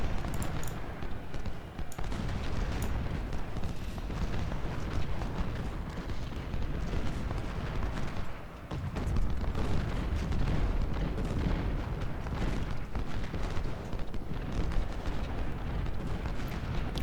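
Cannon artillery fire in the Ultimate General Civil War game, a long, fairly quiet, continuous rumble of booming shots and battle din, with a short lull midway.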